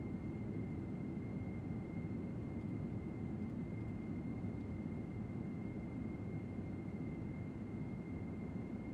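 Steady, loud low-frequency roar of a Boeing 747-400 on its takeoff roll in the X-Plane 11 flight simulator, departing Boston Logan, with a constant whine above the engine rumble and no break or voices.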